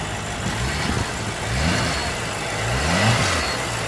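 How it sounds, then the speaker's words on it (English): A BMW M6 Competition Edition with its engine bumped to 600 horsepower revs in short rising pulls, three blips climbing and falling over a rumbling idle, loud and close. "Just give it a little rev time underneath there"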